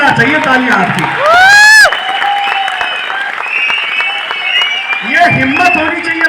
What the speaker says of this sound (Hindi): जोरदार चाहिए तालियां आपकी